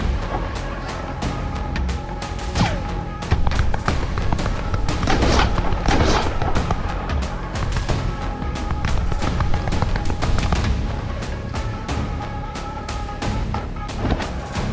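Loud, sharp gunshot-like blasts of a sniper rifle in an animated game-style scene, repeated cracks and booms layered over a dense, busy background for the whole stretch.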